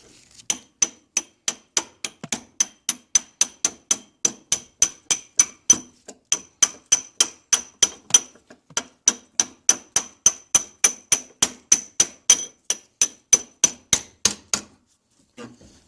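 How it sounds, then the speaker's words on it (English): Steady metallic hammer strikes on a metal rod driving out bushings from a 1992 Johnson 90 HP outboard's power trim and tilt unit, dozens of evenly spaced sharp clanks in a fast regular rhythm with only brief pauses, close and clear. "Now I need the hammering rod again."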